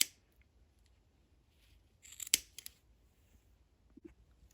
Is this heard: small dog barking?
no